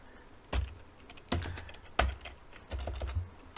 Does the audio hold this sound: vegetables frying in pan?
no